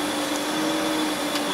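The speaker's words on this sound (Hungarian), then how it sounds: "már be kellett a légkondit is kapcsolni" Air conditioning running inside a truck cab, a steady broadband blowing hiss with a faint constant whine, loud and unbroken throughout.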